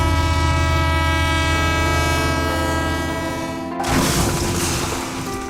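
A train passing as a sound effect, a loud steady roar with a sustained horn-like tone that cuts off abruptly near the end and gives way to a rougher rumbling wash.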